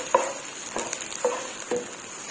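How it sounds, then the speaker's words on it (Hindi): Onions frying and browning in oil in a pan for dhaba-style chana daal, a soft continuous sizzle broken by a few stirring scrapes, close and fairly quiet with no talk. "तो प्याज को हम अच्छे से ब्राउन करेंगे।"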